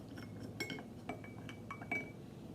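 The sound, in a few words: mixing colored water in glass containers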